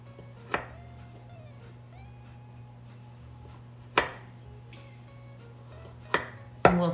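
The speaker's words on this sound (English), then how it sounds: "We're going to try and slice these 1/4 inch thick." A knife cutting through a log of cranberry orange almond shortbread cookie dough into quarter-inch slices gives a few separate dull chops against a board, spaced about two seconds apart, over a steady low hum.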